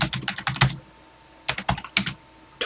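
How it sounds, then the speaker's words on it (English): Keys clatter on a Texas Instruments TI-99/4A computer keyboard in two quick bursts of close, crisp keystrokes separated by a short pause. "And let's get typing."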